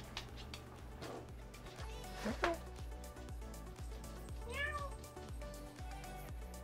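A cat meows a few times over a steady rhythmic music bed, with a drawn-out, rising-and-falling meow near the middle.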